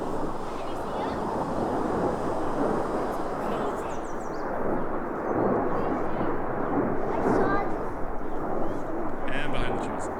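Fighter jets flying over a residential neighborhood, a loud, continuous broadband roar that swells and holds steady throughout, heard from the ground with wind buffeting the microphone.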